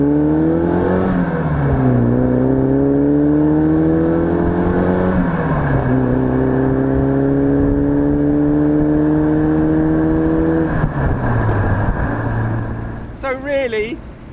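A classic Alfa Romeo Duetto Spider with a binding front right brake pulls up through the gears. The engine note rises loud and close in several long climbing pulls with shifts between them, then fades toward the end.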